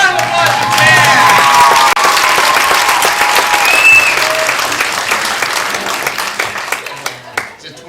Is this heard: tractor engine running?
no